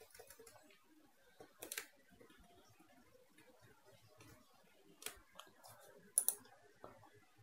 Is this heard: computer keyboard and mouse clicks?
yes